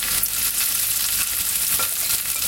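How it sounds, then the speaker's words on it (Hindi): Paneer sautés in olive oil in a kadhai over high heat, giving a steady, loud, dense sizzle that holds evenly throughout with no voices. "सारा ही पनीर सॉटे करने के लिए इसमें डाल देंगे।"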